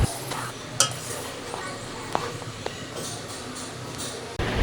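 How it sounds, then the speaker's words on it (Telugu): A pot of hot milk curdled with lemon juice being stirred, giving soft scraping and swishing with a few light clinks of the spoon against metal, low and steady throughout. "ఇప్పుడు ఈ పాలను ఒకసారి కలుపుకుందామండి"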